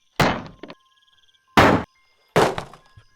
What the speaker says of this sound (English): They struck the door next.